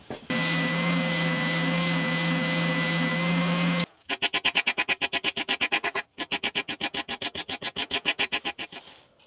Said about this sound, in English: I need to take quite a bit off the top of this, so I'm going to do it on the belt sander.